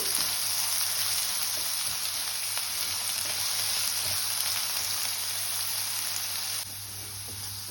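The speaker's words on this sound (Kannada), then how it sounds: "ಇದು ಸ್ವಲ್ಪ ಫ್ರೈ ಆಗಬೇಕು ಆಯಿಲಲ್ಲಿ." Potato pieces frying in oil in a kadai make a dense, even sizzle like steady rain that drops to a quieter level near the end, with no talking.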